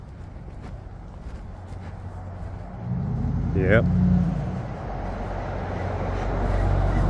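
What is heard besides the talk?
loud truck passing by on the road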